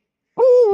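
A pet owl gives a single short, clear hoot, close and loud, after a moment of silence.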